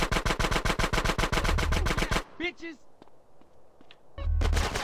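Rapid automatic AK rifle bursts ring out in GTA San Andreas gang warfare, a dense rhythmic string of shots, then a short lull with scattered sounds before firing resumes.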